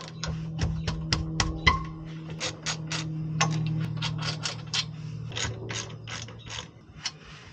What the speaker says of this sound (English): Next, we're gonna remove the two 17 millimeter bolts to remove the brake pad bracket off of the hub.